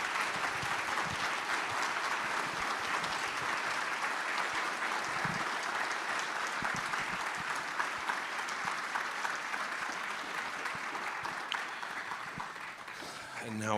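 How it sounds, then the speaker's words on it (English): Sustained applause from an audience at a synod assembly fills the hall, steady dense clapping that carries on evenly, moderately distant, before fading near the end. "Another round of applause, please"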